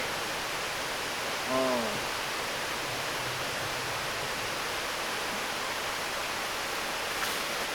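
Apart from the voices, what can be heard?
mountain river flowing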